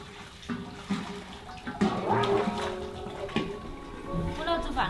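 Running water from a tap splashes steadily while something is rinsed clean in a kitchen, continuous and close, with people talking over it in places.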